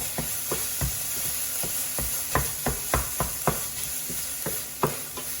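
Fish sauce being stirred into Singapore-style black carrot cake frying in a pan, a continuous hissing sizzle with a series of sharp spatula scrapes and taps at an uneven pace, close and fairly loud, nobody speaking.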